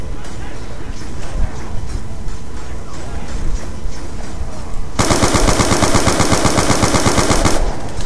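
Rapid automatic gunfire in a zombies survival video game bursts in loud and dense halfway through, after quieter game noise, and continues steadily to the end, with voices talking underneath.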